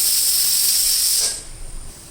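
A pressure cooker vents steam in a loud, steady hiss while horse gram cooks, then cuts off sharply, leaving only a faint, quieter room tone.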